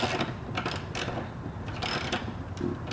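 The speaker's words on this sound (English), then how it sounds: "millimeter socket wrench to do that. Make them nice and snug." A socket wrench snugs up bolts on a wooden sandbox frame, giving quick clicking ratchet bursts with some clunks, close by and without talking.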